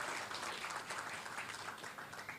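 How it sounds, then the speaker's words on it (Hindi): An audience at a public event in Rajasthan claps to welcome Nitin Gadkari, a faint, distant, continuous patter of many hands lasting the whole stretch. "ऐसे माननीय नितिन गडकरी जी के लिए जोरदार"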